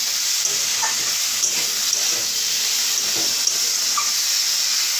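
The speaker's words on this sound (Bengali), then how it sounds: "নুন দিয়ে ভালো করে নাড়াচাড়া করে নিতে হবে।" A Haldia-style crab curry in a pan, freshly salted, sizzles with a constant bright hiss while occasional soft scrapes and knocks of stirring come through. No one speaks.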